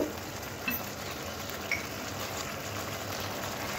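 A pan of spice mix with turmeric and chili powder fries in a soft, continuous sizzle, faint and steady, with a couple of light clicks near the start and no voices.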